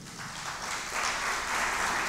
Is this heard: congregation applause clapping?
yes